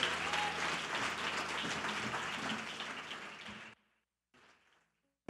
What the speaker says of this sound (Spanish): David Díaz, fuerte el aplauso.